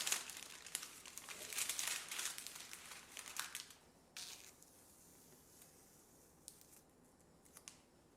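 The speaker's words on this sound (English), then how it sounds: "trying to pull the stencil paper up very carefully" Stencil paper is peeled slowly and carefully off a freshly painted model locomotive, giving soft close crinkling and tearing bursts that fade into quiet with a few faint ticks.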